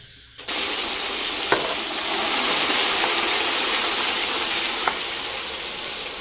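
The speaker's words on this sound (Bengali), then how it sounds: "জ্যান্ত জিনিসটাকে তেলের মধ্যে দিচ্ছে" Live koi fish drop into hot oil in a pan, setting off a loud, steady sizzle with a few sharp pops and crackles, close and continuous throughout.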